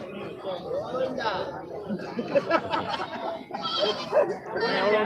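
Goats bleat at a busy livestock market in Tamil Nadu, several wavering cries rising over lively crowd chatter and laughter, with people talking close by throughout.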